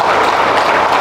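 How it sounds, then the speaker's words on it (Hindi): Applause at a Hindi-language Christian worship gathering, a dense, loud wash of many hands clapping at once, continuous and unbroken for about a second. "एक बार तालियां हो जाए"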